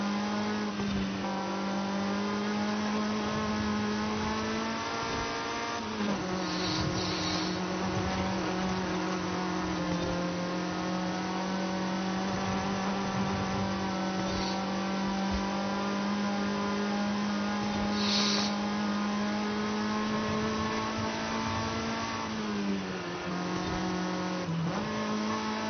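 A 2016 Mazda MX-5 ND engine drones at a steady, close and loud pitch for the whole stretch, with brief dips and shifts in tone and no talking.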